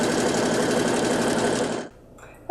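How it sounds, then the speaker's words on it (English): A sewing machine running a stretch stitch with a stretch needle through gathered tulle fabric, a loud steady whirring hum for most of the stretch that stops abruptly near the end, no voices. "Use that stretch stitch to create about a 1/2 inch to a 5/8 inch seam. The stretch needle is keeping a consistent stitch."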